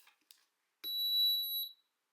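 A metal detector sweeping over a Pokémon card lets out one steady high electronic beep lasting about a second, preceded by a few faint handling clicks.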